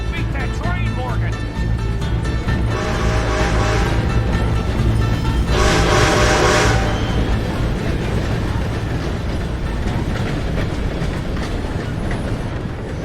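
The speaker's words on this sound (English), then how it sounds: "Gotta beat that train, Morgan!" A train rolling along in the video game Red Dead Redemption 2, heard as a loud continuous rumble and rattle of rail cars with rising bursts of noise, while game characters talk over it.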